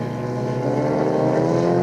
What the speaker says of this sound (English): your car sounds funny, like it's on a rev limiter or something.